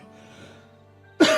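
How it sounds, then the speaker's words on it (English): A single sudden cough bursts out near the end after quiet background, loud and close, from a person streaming a game live. "if I get one of those coughing fits again, I might have to end the stream."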